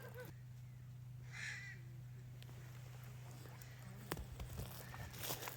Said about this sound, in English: there's some angry crows up in here.